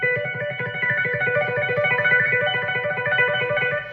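Electric guitar with heavy distortion, playing a quick run of sustained, buzzing notes with a steady rhythmic pulse, loud and close.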